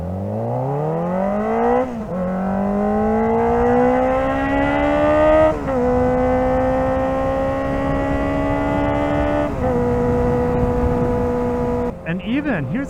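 A Kawasaki ZX-4RR with an aftermarket exhaust pipe and ECU flash revs up close. The engine climbs and holds at a high, buzzy pitch in several stepped pulls, with short dips between them.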